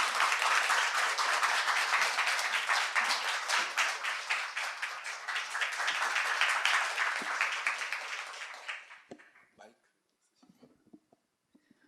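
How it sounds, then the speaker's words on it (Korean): A concert audience at a humanities arts event applauds to welcome a music director onto the stage, dense clapping for about eight seconds that fades out, followed by a few faint scattered sounds. "무대를 모실 테니까 큰 박수로 맞아 주시기 바랍니다."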